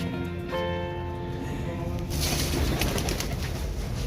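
Pigeons in a Lahore loft housing Teddy racers and mixed birds, with soft low cooing droning steadily and close, a faint murmur of voices in the background.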